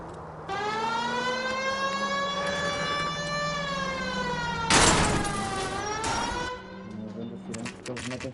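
A police car siren in the video game L.A. Noire on PS5 wails, rising and falling steadily, with a loud burst of noise midway through.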